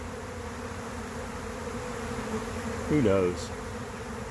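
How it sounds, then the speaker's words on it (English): Honey bees buzzing at a swarm hive, a steady dense hum throughout with one brief louder burst as a bee passes close by. "This is my swarm hive."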